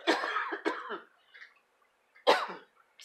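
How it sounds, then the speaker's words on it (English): A few harsh, close coughs come in a quick cluster, a short pause follows, then one more cough and a faint start of another. "I had a little bit of a coughing spell there"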